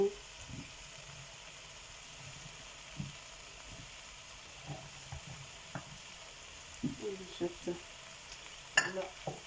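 Spinach stalks are stirred with fish in a hot pan, a faint steady sizzle under soft scraping and stirring knocks that grow busier toward the end.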